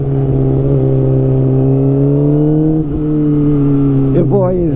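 A 2007 Suzuki GSX-R 600 sport motorcycle is ridden steadily, its engine droning loud and close at an even pitch, with a short dip and a quick throttle change near the end.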